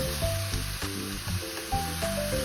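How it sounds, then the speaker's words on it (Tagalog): Chicken meat sears in a hot pan with a loud, constant sizzle close by, broken by intermittent tonal scraping and stirring sounds. "pa-brownin muna natin ang ating chicken meat bago natin lagyan ng sabaw"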